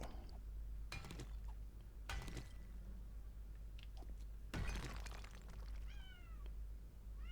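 A cat meows several times in a quiet indoor setting, with faint clinks of glass and dishes in between the cries; no one talks.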